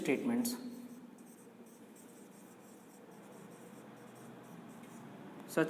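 Marker or chalk scratches across a classroom board as a definition is written out in a maths lecture, faint continuous strokes under a teacher's quiet voice.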